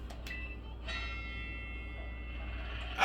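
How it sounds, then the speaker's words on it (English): A bell chimes in the Pokemon Violet video game, a couple of quick soft strikes followed by a longer sustained ringing tone that hangs over quiet game background sound, with no talk. "I hear the bell."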